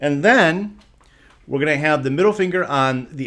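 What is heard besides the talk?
No everyday noise stands out behind the speech.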